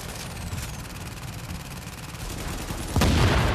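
Sustained gunfire in The Division aimed at a turret, a dense rattling fusillade of rapid shots with a louder, heavier burst near the end, no voices over it.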